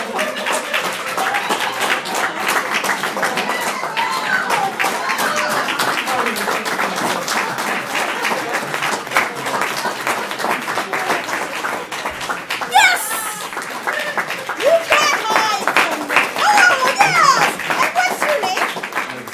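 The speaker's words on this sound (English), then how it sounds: "Give him a round of applause." Sustained audience clapping fills a room at an open house event, loud and steady throughout, with scattered voices and a bit of laughter mixed in toward the end.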